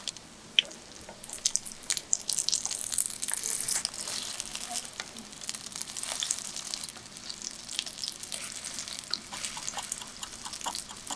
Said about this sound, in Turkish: Her iki tarafını 2 dakika kızartın.